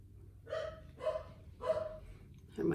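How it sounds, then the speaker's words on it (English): Three soft, muffled dog barks in a row, sounding somewhat distant and quiet, followed by a brief higher yip at the end. "Here my doggy's barking."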